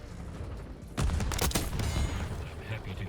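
Hand cannon gunfire in Black Ops 6, heavy shots starting about a second in and bursting on in close, loud overlapping cracks with a dense low rumble, alongside other game noise.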